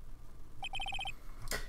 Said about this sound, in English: What is with this stupid sounding ringtone?